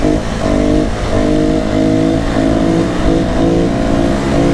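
A Honda Pop 110 motorcycle in second gear revs hard and accelerates, its loud, close engine drone holding a steady buzzing pitch with slight wavering throughout, no voices over it.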